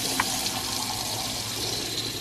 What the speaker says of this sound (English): I'm going to run off some of the fresh water from freshwater tank just to rinse through the grey waste